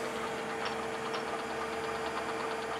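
A submersible's motor drives it downward on a dive toward about 70 metres in a Mediterranean canyon head, a steady mechanical hum with a fine ticking pulse, constant and close.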